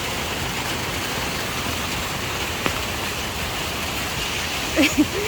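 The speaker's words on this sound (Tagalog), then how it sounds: "Ito talaga yung lakad na kahit malakas yung ulan, gora pa rin." Steady hiss of heavy rain pouring down, continuous and close, with a brief faint voice near the end.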